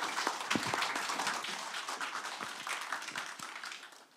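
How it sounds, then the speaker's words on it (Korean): Warm audience applause at a public institution management evaluation conference closes a panel discussion. Steady clapping from a room of attendees sounds fairly faint and distant, then tapers off near the end. "고생해 주신 네 분께 다시 한번 따뜻한 박수 부탁드립니다"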